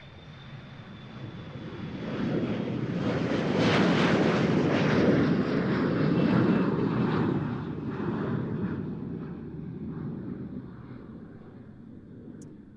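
Jet airliner taking off at Amsterdam Schiphol Airport, a broad rumbling roar building over several seconds, peaking loud mid-clip and slowly fading as the aircraft climbs away; no talk.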